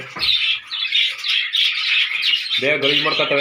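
Caged birds squawk loudly and nearly nonstop up close, shrill raspy calls overlapping, with a brief voice joining near the end.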